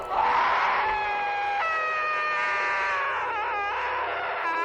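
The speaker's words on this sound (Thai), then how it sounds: "ยายเมา ก็กรีดร้องออกมาอย่างเจ็บปวด" An old woman screaming in pain, a loud sustained high wailing cry that holds and bends in pitch, breaking into a wavering quiver near the end before rising again.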